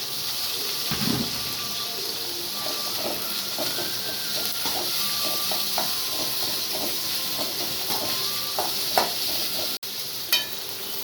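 Curry leaves and a large onion fry in a pan, a constant hissing sizzle broken by repeated stirring taps and clinks, with a sharp click near the end and no speech.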